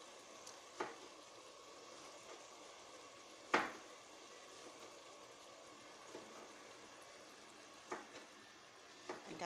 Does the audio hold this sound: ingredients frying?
yes